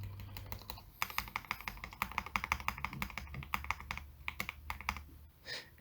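Typing on a Zoom65 mechanical keyboard, with rapid, close, crisp key clacks in an uneven stream and no talk.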